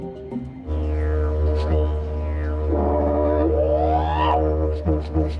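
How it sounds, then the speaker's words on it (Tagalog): A didgeridoo, the traditional Australian Aboriginal wind instrument, droning a deep steady tone with rising and falling overtone sweeps and rhythmic pulses, loud and alone. "Yan ang tunog ng isang traditional musical instrument sa Australia na tinatawag na didgeridoo."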